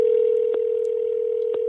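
A telephone line gives a steady, loud single tone with brief clicks from keypad presses about a second apart, clean and close with no voices.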